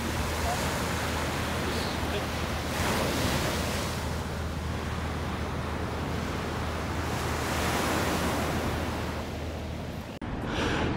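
Sea waves wash along the Costa Dorada coast at Cambrils and Cap Salou in Spain, a loud continuous surging roar mixed with wind buffeting the microphone, swelling and easing in slow rolls.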